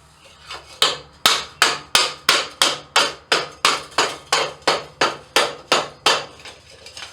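A blacksmith hammers a forged steel bowl in a cupping tool on a swage block to smooth its surfaces. Sharp, ringing hammer blows fall in a steady, even rhythm, about sixteen close strikes in a row, with no talk.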